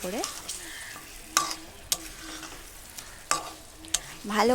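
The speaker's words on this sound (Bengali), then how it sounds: "তারপর আমি তেল দিয়ে দিলাম, আবার তেল দিয়ে কষাবো" Chicken is stir-fried in oil in a pan for a curry. A soft background sizzle is broken by several sharp spatula knocks and scrapes against the pan, with faint tonal kitchen noises between them.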